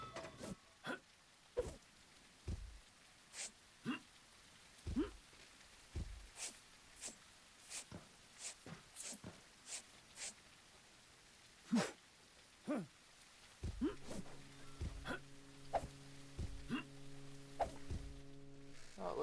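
Rain falls in the video game Ship Graveyard Simulator, heard as sparse, faint drips and taps scattered at an irregular pace, with a low humming tone joining near the end.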